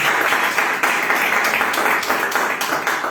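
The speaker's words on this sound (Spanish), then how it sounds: "un aplauso al Señor, un aplauso a Jesús" Church congregation clapping during a sermon, a busy, continuous patter of many hands with slight surges and dips, loud and close, with no voices on top.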